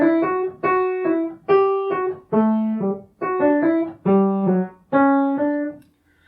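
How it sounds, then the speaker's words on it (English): Violins play the flowing obbligato melody from the opening chorus of Bach's cantata BWV 140, Wachet auf, in a series of detached, bowed phrases with short gaps between them, clear and close with no voices. "what you heard the violins doing was something completely original written by Bach that starts like this"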